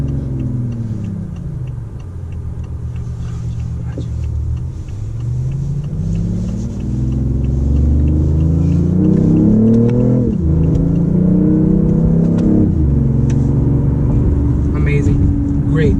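A BMW i8 supercar accelerates hard, its engine note climbing in loud sweeping rises and dropping sharply at each quick gear change, three or four shifts in a row, while someone inside talks over it.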